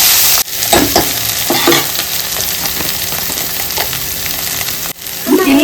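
Squid frying with tomato in a pan, a loud continuous sizzle with intermittent stirring scrapes throughout.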